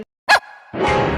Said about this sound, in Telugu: బేస్మెంట్లో కుక్కపిల్ల అరుస్తుంది